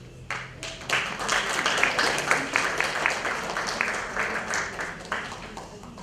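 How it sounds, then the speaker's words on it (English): An audience applauds at a Women's Federation for World Peace Europe conference, the clapping swelling in after a brief quiet start and staying loud and dense before easing slightly, with a voice briefly audible early on. "So big applause for these lovely ladies"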